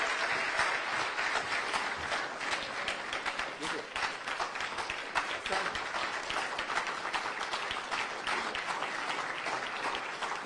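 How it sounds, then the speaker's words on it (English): A large audience applauds at the close of a speech by Kenya's former president Uhuru Kenyatta, with dense, sustained clapping filling the whole stretch at a fairly even level and no break. "A round of applause."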